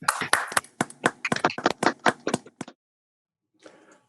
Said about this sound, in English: a big round of applause for this wonderful 4 papers and panelists